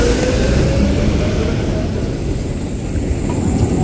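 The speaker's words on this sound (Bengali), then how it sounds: "অনেকগুলো ট্রাম যাচ্ছে এই সাইড দিয়ে" Several trams roll past on a cold city street in the Czech Republic, a loud continuous low rumble and rolling hiss close by, steady throughout with no talking.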